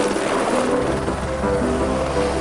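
A private helicopter runs close and loud, its steady rotor and engine roar holding without a break, with no talk over it.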